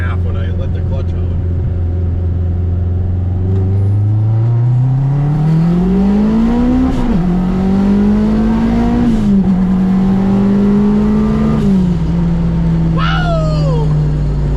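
AWD K-swapped turbo Honda Civic with a twin-disc clutch on a street pull, engine loud and close, revs climbing hard through several gear shifts with brief dips between, a voice briefly audible.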